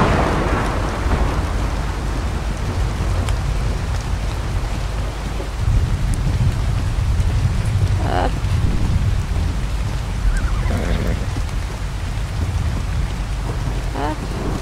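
Heavy rain falls steadily in the video game ARK on The Center map, a dense continuous hiss with low rumbling underneath and a faint voice surfacing briefly in places.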